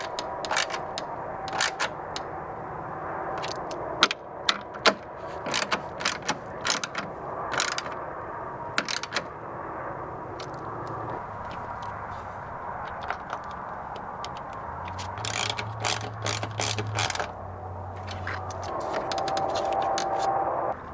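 Ratchet driving the three headlight mounting bolts back into a Ford SVT Raptor after fitting OEM HID headlights, a steady run of quick clicking bursts close by with short pauses between them, alone and with no talk.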